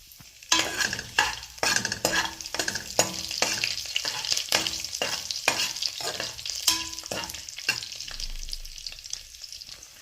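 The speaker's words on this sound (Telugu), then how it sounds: "డ్రై మిర్చి వేసుకున్నాక ఇందులోకి కరివేపాకు వేసుకుందాము." Dried chillies and curry leaves sizzle in hot oil in a home kitchen pan, giving a loud close crackle and spitting, with rhythmic metal spoon scrapes and taps of stirring throughout and no voices.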